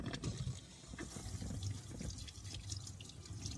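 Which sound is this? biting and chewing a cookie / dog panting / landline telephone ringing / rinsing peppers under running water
rinsing peppers under running water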